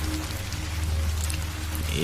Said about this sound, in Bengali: চারপাশে বৃষ্টি পড়ছে